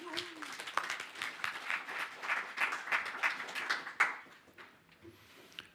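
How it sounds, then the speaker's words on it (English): Audience applause welcoming presenters onto a stage at a conference talk on climate change and electricity generation, a moderate scattered clapping that swells over several seconds, then thins out and fades near the end. "Please welcome them on stage with a round of applause."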